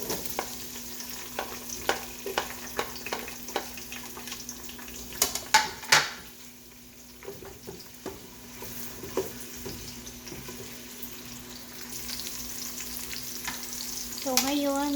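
Garlic and onions sautéing in a pan, a steady close sizzle and crackle of frying broken by scraping stirs and a few clinks, with a brief quieter stretch midway.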